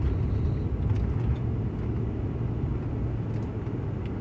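Car making a turn, a steady low engine and road rumble heard from inside the cabin, slightly louder at first and then holding even.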